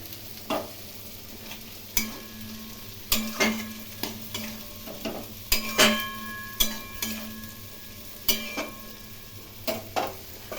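A potato and pointed gourd curry finished with a little ghee cooks in a pan: a steady low sizzle broken by regular sharp clinks of a spoon stirring against the pan, close and distinct, with no voices.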